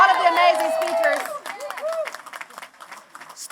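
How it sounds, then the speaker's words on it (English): Applause and cheering from an audience at a Detroit mayoral campaign announcement, steady clapping that rises under a voice at the start and carries on alone. "Can we give them a round of applause?"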